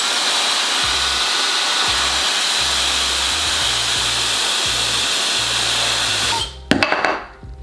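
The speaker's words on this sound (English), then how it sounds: "Then I'm gonna get my blow dryer." A handheld blow dryer used on a wig gives a close, steady whooshing roar with a low motor hum for about six seconds, then switches off with a short clatter of handling.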